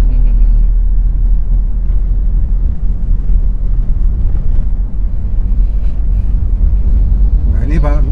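Car engine with double blackcore, catalytic converter, additive and tuning, idling along at about 1000 rpm in fifth gear on Pertalite fuel, a steady loud low rumble throughout with no talk.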